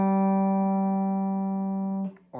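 A guitar note sliding off the 3rd string during a song's solo: a single clean sustained tone holding steady, then sliding away and fading at the end.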